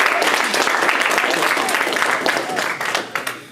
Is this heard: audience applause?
yes